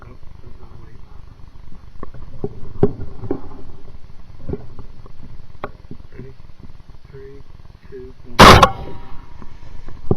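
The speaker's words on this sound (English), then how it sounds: "We both shoot and the boar takes off running." A single loud, sharp rifle crack rings out at a boar in a quiet outdoor night setting, standing alone against faint background rustling and low murmuring.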